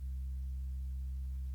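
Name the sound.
Serum synth sine wave with drawn custom harmonics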